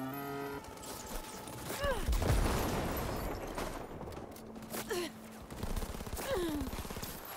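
Gunfire in Cyberpunk 2077 Phantom Liberty, dense rapid shots and weapon mechanics amid a busy combat mix, with someone speaking over parts of it.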